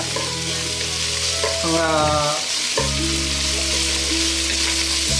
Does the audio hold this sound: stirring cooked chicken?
yes